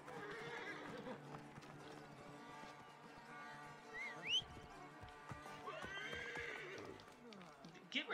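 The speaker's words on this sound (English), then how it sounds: "They stole my horse!" A horse in the video game Assassin's Creed Origins whinnies loudly twice amid clip-clop hoofbeats and game sounds, the neighs prominent and close.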